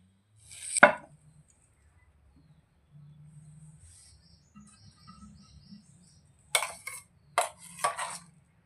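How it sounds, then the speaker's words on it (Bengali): A knife cuts strawberries on a board in a quiet kitchen, one sharp chop near the start, then a quick cluster of three or four close chops after a long pause. "সবগুলো স্ট্রবেরি কেটে নেওয়া হয়ে গেলে"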